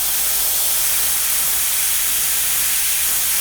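An airbrush sprays cerulean blue paint onto a Dragon Hellhound chopper, giving a constant close, loud hiss of air that holds steady throughout without any talking.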